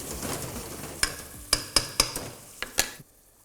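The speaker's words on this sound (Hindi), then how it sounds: "आंच को रखना है तेज और प्याज को भूनना है अच्छे से।" Grated onion frying over high heat in a pan gives a light sizzle, broken by several close, ringing metallic clanks of a spoon against the pan before the sound cuts off, with no talking.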